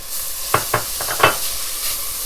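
Crumbles sautéing in a pot for a one-pot pasta dish, a soft steady sizzle with a few brief stirring scrapes clustered near the middle, close and moderately loud.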